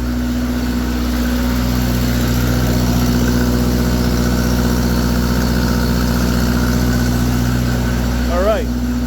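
An Onan 15.0 JC generator, freshly refurbished, runs steadily under a load bank test with its carburetor unadjusted, a constant low engine drone and hum throughout, with a brief squeak near the end.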